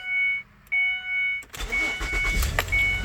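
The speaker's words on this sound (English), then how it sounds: "it's just testing it out, cranking it up" A 2006 Mazda Tribute, just fitted with a new fuel pump, chimes and clicks before the engine cranks briefly and starts, settling into a loud, rough idle up close.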